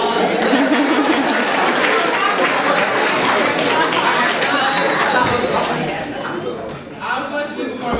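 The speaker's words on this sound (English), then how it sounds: "So give yourselves a round of applause." A crowd claps and cheers loudly and steadily, dense applause filling the space, tapering slightly toward the end.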